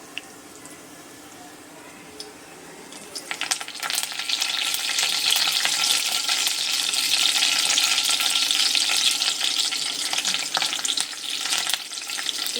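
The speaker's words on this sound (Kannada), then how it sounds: "ಇದು ಸ್ವಲ್ಪ ಸಿಡಿಲಿ, ಸಾಸಿವೆ ಸಿಡಿಲಿ." Mustard seeds and curry leaves hit hot oil for a North Karnataka-style stuffed brinjal dish. A quiet opening gives way to a loud, dense, continuous crackle and spatter that stays steady and close to the end.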